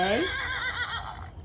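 A voice imitates a horse's neigh during a farm-animal read-aloud children's story: a short, close whinnying cry lasting about a second, falling in pitch and fading out, with no other talk.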